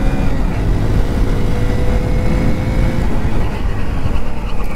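A Hero Passion Plus 100 commuter motorcycle revs up on an empty road during a braking test, its small engine droning steadily and close under rushing wind.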